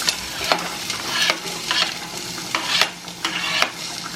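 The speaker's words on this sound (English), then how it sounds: "And dump the onions in." Chopped onions hit a hot frying pan in a home kitchen, setting off a loud, close crackling sizzle. Sharp bursts of spatter and scraping rise and fall over about four seconds, with no voices.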